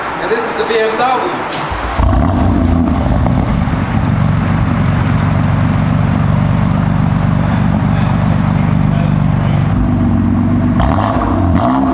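The exhaust of a BMW M2 Competition with an S55 engine roars loudly in a deep, sustained drone after a brief quieter start, holding steady for several seconds before tapering at the end.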